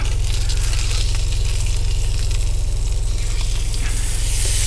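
Sockeye salmon fillets sizzling in oil as they are flipped, cooked inside a truck; a loud, constant close-up hiss and crackle over a steady low engine-like hum, with no talking.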